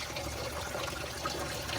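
Water from a pond pump runs out of a hose, a continuous close splashing and gushing stream, steady and fairly loud throughout, with no talking.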